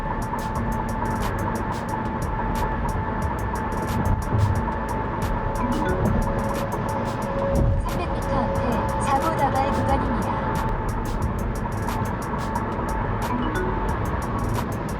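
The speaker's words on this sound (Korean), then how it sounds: "현재 시속 100km로 주행 중입니다." Steady road and tire roar inside a Chevrolet Bolt EV cruising at 100 km/h on a concrete highway, a continuous broadband rumble with a faint whine, while someone talks over it.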